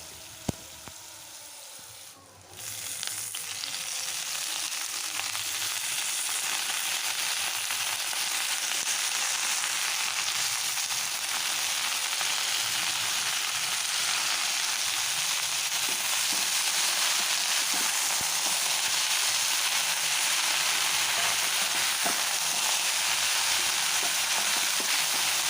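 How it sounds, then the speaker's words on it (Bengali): Eggplant pieces and bathua greens fry in a pan, with a loud, continuous hissing sizzle that swells in after a brief quiet start and holds steady throughout, close up. "বেগুনগুলোকে মোটামুটি ভাজা ভাজা করে নিয়ে তারপর আমি বেতো শাকগুলোকে দিয়ে দেব।"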